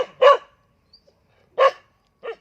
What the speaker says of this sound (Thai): มันเห่าแล้วมันกระโชกแล้ว